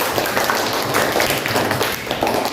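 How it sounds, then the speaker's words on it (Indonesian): A school class applauds its own project work, with quick, close, fairly loud clapping from a small group in a room, brisk and uneven throughout. "Tepuk tangan dulu buat kita semua."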